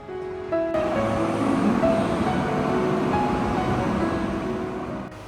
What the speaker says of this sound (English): The next day, we board a high-speed train back to Kunming.